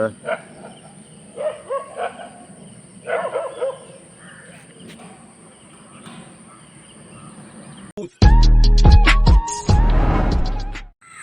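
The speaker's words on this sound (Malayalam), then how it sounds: "വലിയ ശല്യം തന്നെയാണ് ഈ പട്ടികളെ കൊണ്ട്" Stray dogs bark at passers-by on a street; faint sounds come first, then a loud burst of close, sharp barks near the end, with people talking.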